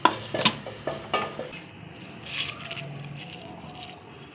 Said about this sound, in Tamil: எள்ளை நல்லா இந்த மாதிரி கோல்டன் ப்ரௌனில் வறுத்துக்கோங்க.